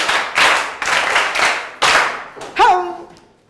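Children in a classroom clap for a classmate in several short, loud bursts of group clapping, then a brief voiced whoop or cry rises and the sound trails off into quiet.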